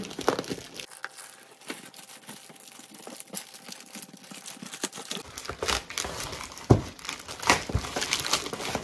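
A new wall clock ordered online is unwrapped, with crinkling, crumpling and tearing of the packaging. The rustles come in irregular bursts that grow busier and louder toward the end.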